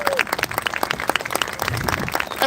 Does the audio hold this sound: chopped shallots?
no